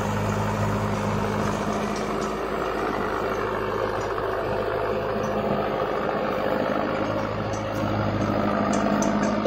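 A Mahindra Novo 605DI tractor driving an 8-foot superseeder at 540 PTO in a field, a steady low diesel drone with a constant mechanical hum, close and unbroken, with no talk.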